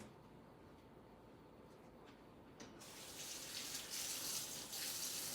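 Water from a tap starts as a faint trickle, then builds into a steady, fairly quiet hissing stream that runs continuously.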